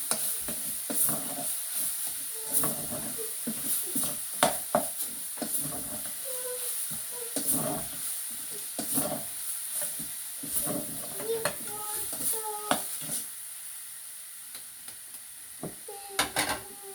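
Grated coconut and carrot being stirred in a cooking pan, soft sizzling under repeated scraping and clinking of a spoon against metal, close by, with a voice speaking intermittently over it.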